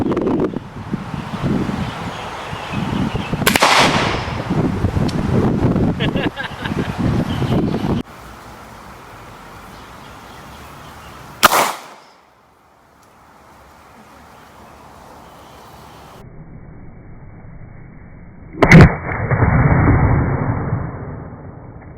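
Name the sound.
pressurized bottle exploding at 70 PSI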